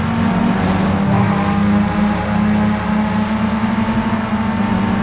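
A steady, droning race car engine in the video game Need for Speed: Most Wanted hums continuously at close range, with a constant mid-low tone and no voices over it.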